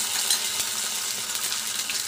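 Ginger garlic paste sizzles steadily in hot oil in a pan while kadhi pakoda is being cooked, a dense, even hiss that stays close and loud throughout with no talking.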